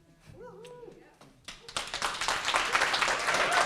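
An audience bursts into clapping for Shantae, a customer who lost over 50 pounds, at a demo day presentation, the applause swelling quickly into a dense, loud ovation after a moment of speech.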